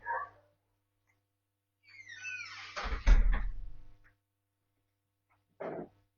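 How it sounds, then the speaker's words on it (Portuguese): An indoor door creaks on its hinges and then shuts with a low thud in an otherwise quiet room, followed later by a brief faint rustle. "Deixa eu fechar a porta aqui, gente."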